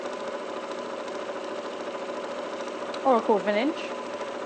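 A sewing machine stitching a bag handle runs with a steady, even mechanical hum, while a voice speaks briefly over it near the end.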